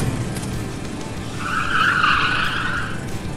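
A car in a video game accelerates hard and skids, its engine roaring steadily as a loud tire squeal swells through the middle and then fades, all close and continuous.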